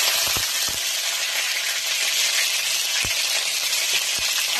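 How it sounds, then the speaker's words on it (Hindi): Mustard seeds, curry leaves and green chillies hit hot oil in a pan for sambar, giving a loud, dense, continuous sizzle with scattered sharp pops and crackles. "अब मैं इसमें डालूंगी राई और कड़ी पत्ते और मिर्ची"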